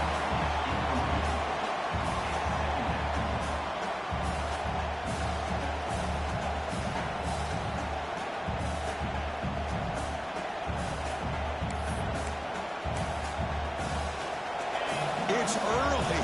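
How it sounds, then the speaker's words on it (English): A dense, continuous roar of an LSU football stadium crowd cheering and shouting during a game against Texas, steady and loud throughout with no pauses. "this crowd is fired up. Listen to this noise here"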